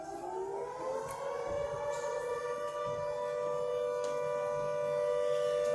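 Civil defense air raid sirens in Malta wail steadily, several tones layered and sustained, loud and continuous throughout with a slight rise in level toward the end.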